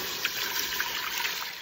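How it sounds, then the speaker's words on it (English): Soup base poured from a container into a cooking pot makes a steady, close liquid trickle and splash that runs without a break, with no voices. "I'm gonna take it over and pour it into our pot for today."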